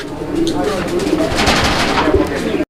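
Baghdadi homer pigeons, a pair of male and female, coo continuously and loudly up close at a pigeon farm, with layered overlapping calls throughout.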